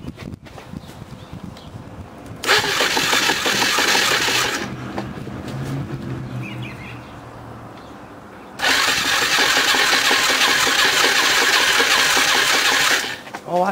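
A Kawasaki KLF 185 ATV engine cranks without catching: two long bursts of whirring, chugging starter-motor noise separated by a quieter pause, heard close up, with someone talking between them.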